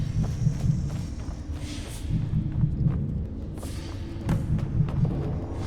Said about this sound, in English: our heartbeat's getting a lot louder now.